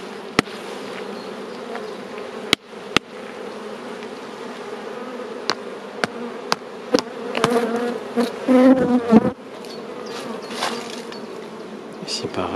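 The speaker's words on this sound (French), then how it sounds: "On va remettre les abeilles à l'intérieur." Bees buzzing steadily at close range as they are returned into a hive that had gone unopened for years, with a denser swell of buzzing midway and several sharp clicks or knocks throughout.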